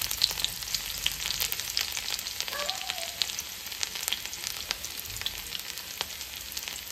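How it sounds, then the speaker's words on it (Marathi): Bay leaf and chili sizzle in hot oil, a steady close crackle of frying spices with small bursts of spitting and no voices over it. "आतां घालया तेजपत्ता आणि मिरची बरे तरेन फ्राय करून घेऊया"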